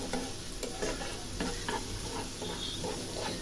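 Onion frying in oil with cinnamon and cardamom for a chicken and potato korma, a steady close sizzle with soft scraping stir strokes throughout, no voices.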